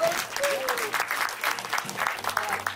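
An audience at a film event applauds to welcome the director, dense, loud clapping spread throughout with a few voices and cheers mixed in.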